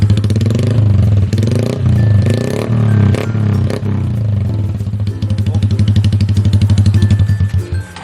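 A Honda Wave 110i 2021 motorcycle with an aftermarket performance exhaust revs loudly with a deep, raspy rumble, rising and falling, then settles into a rapid throbbing idle near the end.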